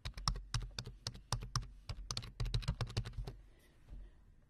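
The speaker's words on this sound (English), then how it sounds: "When you're finished typing, hit enter on your keyboard" Fast, light keystrokes tap out a web address on a computer keyboard, a quick uneven run of crisp close clicks that pauses briefly near the end.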